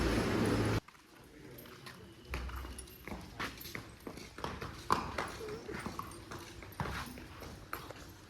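A mare's hooves clip-clop at a quick, steady trot along a highway, forming a clear rhythmic patter of close, sharp strikes. The sound is fairly quiet and continues after a brief louder burst at the start.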